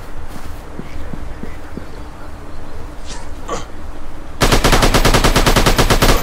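Rapid automatic gunfire from a dinosaur hunting shooter video game, loud and close: a few separate shots first, then a dense, continuous burst of machine-gun fire.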